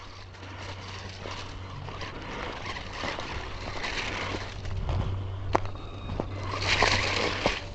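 A WLtoys 12428 budget RC trail buggy running at its top speed over rocky ground, with a steady low motor hum, gravelly crunching and a few sharp knocks, moderately close, no talk.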